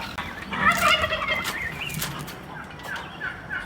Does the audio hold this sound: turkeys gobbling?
yes